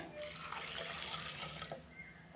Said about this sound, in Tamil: இதுக்கு தண்ணி வந்து நான் ஒன்றரை டம்ளர் தண்ணி ஊற்றுறேன்